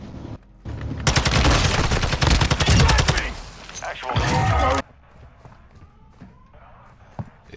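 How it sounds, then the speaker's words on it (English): Rapid bursts of automatic gunfire crackle through a Call of Duty Modern Warfare 2 DMZ firefight, loud and sustained for a few seconds, then die away to sparse distant shots and scattered clicks, with a player talking over the shooting. "I'm taking effective fire!"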